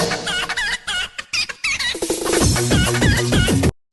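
Chickens cluck and squawk in a series of loud, choppy bursts, close and without talk, ending abruptly.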